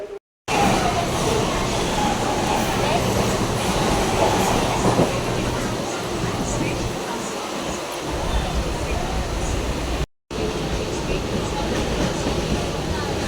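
Continuous rumbling roar of a moving Mumbai local train to Andheri heard from inside, steady and loud, with faint rattling of the carriage and brief dropouts.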